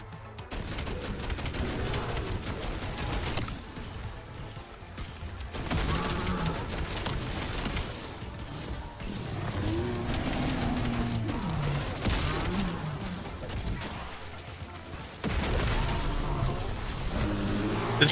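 In Black Ops 7 gameplay, fireworks crackle and burst in rapid fusillades, dense popping volleys rising and falling over about eighteen seconds with no talk.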